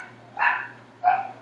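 Two separate dog barks, a little distant and moderately loud, about half a second apart, over a low steady hum.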